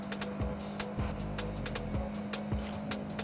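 A car held flat out in fourth gear in the racing game Forza Horizon, a steady sustained engine drone with repeated sharp transient bursts through a few seconds, no talk.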